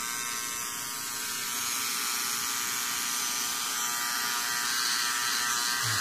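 Electric shaver running steadily, a continuous close buzzing whine with a dense high-pitched hum and no talking.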